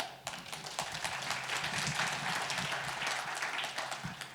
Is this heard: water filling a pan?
no